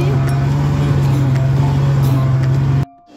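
A snow bike ridden in Sonmarg hums with a steady, loud engine drone and a strong low tonal buzz, with wind and motion noise over it, until it cuts off abruptly near the end.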